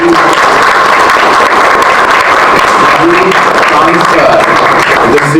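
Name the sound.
audience applause at film festival panel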